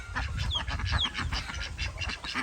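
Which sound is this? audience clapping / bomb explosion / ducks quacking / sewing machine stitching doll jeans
ducks quacking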